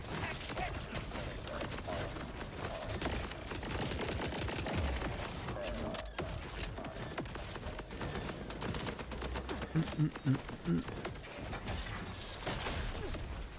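Dense, continuous automatic gunfire from a Borderlands 4 shootout, sustained rapid bursts filling the whole stretch alongside thumps and mechanical clatter, loud and close with no pause.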